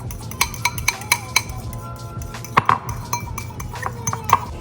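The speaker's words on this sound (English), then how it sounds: "Now we're going to get a fork and whisk that up." Rapid metallic clinks of a fork whisking egg yolks and heavy cream in a bowl, in irregular bursts, close by over a low kitchen hum.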